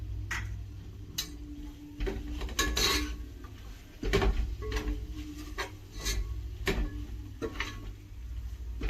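Fresh coriander and mint being stirred into a mutton biryani pot: a metal spoon clinks and scrapes against the pot in irregular knocks and rubs over a soft, low background hiss.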